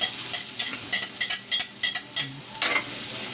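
Onion, garlic and ginger sautéing in a pan, with a crisp sizzle under a quick run of rhythmic spatula scrapes and taps, roughly ten strokes close up and fairly loud, no voices.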